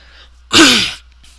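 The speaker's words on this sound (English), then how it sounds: "I'm just going to cough into the microphone" A single sharp cough bursts out close to the microphone, brief and loud, with near silence on either side.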